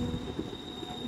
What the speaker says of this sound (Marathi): लोकल ट्रेन मुंबईची